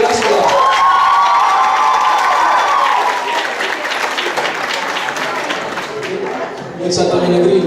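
A school playback show audience claps and cheers loudly for a performer, dense applause with whoops and shouting that eases slightly then swells again near the end.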